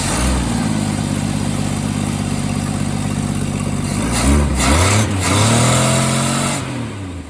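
A 1967 Plymouth Barracuda engine running after a carburetor idle-mixture adjustment, a loud, steady, close idle drone whose pitch wavers and lifts toward the end before the sound tapers off.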